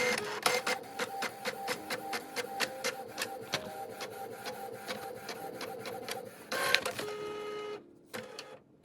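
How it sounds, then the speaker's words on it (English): An inkjet-style printer runs off a personalized Santa letter, its print head shuttling in a steady run of rapid rhythmic passes, then paper feed whirs and clunks near the end; close and clear, no talking. "So you just want to print that off"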